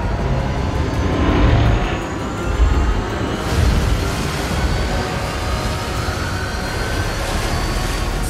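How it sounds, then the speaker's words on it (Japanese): A ship's engine starts and runs as a vessel heads toward a collision, heard as a steady, loud low rumble with a droning hum throughout. "アントン、エンジンスタート"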